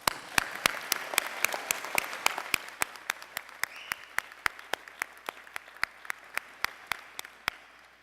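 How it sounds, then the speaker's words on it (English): At a commencement ceremony, faint, scattered applause rings out as distinct individual claps in a loose, uneven rhythm, thinning out and fading over the seconds. "Please give yourself a terrific round of applause."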